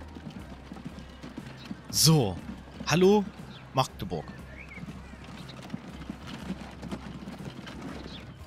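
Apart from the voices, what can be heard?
horse hooves clip-clopping in video game Transport Fever 2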